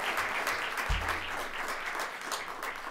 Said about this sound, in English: How about another round of applause for the awesome